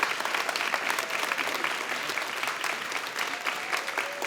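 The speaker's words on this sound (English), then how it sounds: "Let's give one more round of applause to our designers, models, and fashion show production team." Audience applause fills the room at a college fashion show, a dense, steady wash of many hands clapping at close range for the full stretch, with no voices over it.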